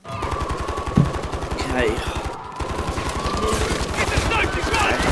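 Rapid automatic gunfire from Call of Duty: Modern Warfare III rattles loud and near in a steady stream, briefly dipping midway before resuming, while voices speak over the shooting.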